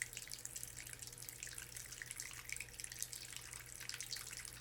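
Water splashes and trickles steadily as a washcloth is used to rinse blood from a wound, a soft continuous wash with faint dripping and no talking.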